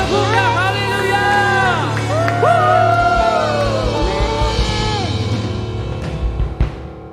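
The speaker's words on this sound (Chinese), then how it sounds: "拍掌荣耀归给他，给他一个大声的呼叫，哈利路亚！" Church prayer-meeting congregation shouting praise with loud whoops and cheers over a sustained low hum, voices overlapping and rising together, with scattered claps near the end.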